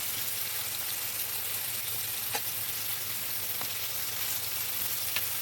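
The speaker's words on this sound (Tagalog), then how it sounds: "Tapos ibigay ko yung bawang" Garlic frying in a pan for a beef dish, a steady close sizzle with a few sharp pops and crackles sounding alone.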